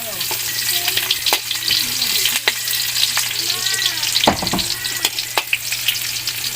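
Onions frying in a pan after other ingredients have been stirred and browned, a steady crackling sizzle throughout with occasional scrapes and clinks of stirring, fairly loud and close, no talk.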